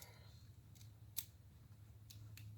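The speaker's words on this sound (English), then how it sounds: "Let's just cut these a little bit longer here." Scissors or wire cutters snip through electrical wire for boat lights on a jon boat, a few short, crisp clicks spaced apart over a faint low hum, close and quiet.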